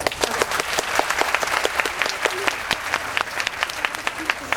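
An audience at a university debate competition final breaks into sustained applause, a dense, even patter of many hands clapping close by with no break.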